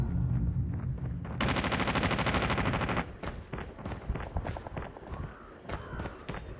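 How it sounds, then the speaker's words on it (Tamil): Gunfire in the video game Call of Duty: a dense burst of rapid automatic shots for about a second and a half, followed by scattered single shots and footsteps, loud and close. "நம்மளை சுட்டான் கைஸ்."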